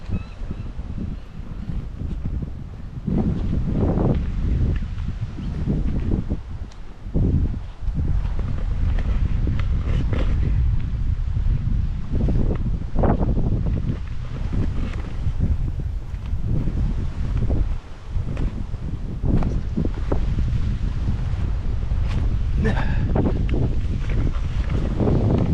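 Gusty wind buffets an outdoor microphone beside the flooded Murray River at Sturt Reserve, Murray Bridge, a loud continuous low roar with repeated harder gusts and short lulls, no talk.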